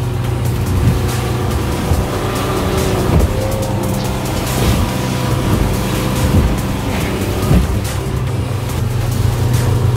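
A fishing boat's engine drones steadily while the boat runs over bumpy water, loud and close with a continuous rumble and slight rises in pitch, no voices.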